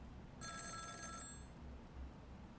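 A payphone rings in the video game Ghost Trick Phantom Detective: a bright electronic trill that lasts about a second and stands clear over a quiet low hum.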